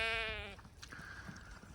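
A single sheep bleats nearby, a short wavering call from a flock grazing stubble turnips beside barley stubble on a hillside farm, followed by quiet outdoor ambience.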